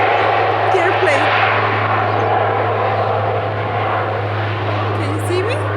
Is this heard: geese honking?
no